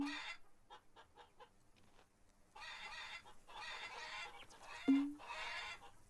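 Chickens cluck in the Farmer's Dynasty farming game, soft repeated clucks with one louder squawk near the end, over faint background ambience.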